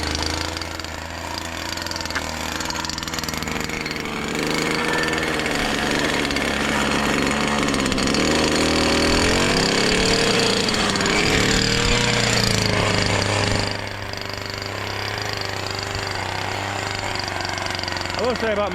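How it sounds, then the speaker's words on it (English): A string trimmer engine runs loud and continuous, its rough motor drone holding steady, surging briefly, then dropping to a slightly lower idle. "Never done a strimmer before."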